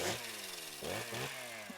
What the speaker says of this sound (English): Chainsaw's the multi-use item.